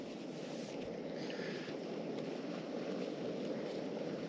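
A steady outdoor breeze beside a tent on the Isle of Skye, a constant broadband rush of wind buffeting the microphone at moderate level with no other sounds.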